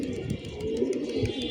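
Pigeons on a rooftop in hot weather give soft, continuous low cooing close by, with faint fluttering and small movement sounds, no voices.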